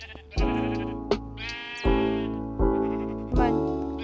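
Sheep in the Minecraft video game bleat loudly and close by, with four or five distinct wavering cries in quick succession. The bleats stand alone with no talk over them.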